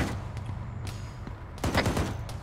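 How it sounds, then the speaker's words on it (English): Small arms gunfire in ARMA 3 crackling across a battlefield, with a steady rumble of distant shots and a louder burst of rapid fire near the end. "Eyes on small arms fire."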